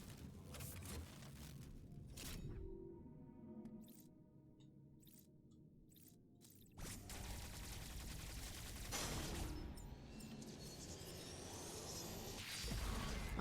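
Shots fired at an EMMI robot in Metroid Dread: a string of whooshing blasts and crackling impacts, some clipped and some rumbling, with no voices.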